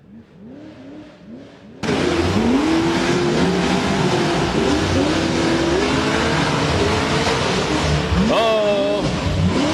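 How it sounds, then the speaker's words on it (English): A 60cc turbocharged single-seat buggy races nearby, its small motor buzzing and rising and falling in pitch as it revs through repeated accelerations, steady and prominent, with voices faintly underneath. "I don't know if you can hear that motor in the background"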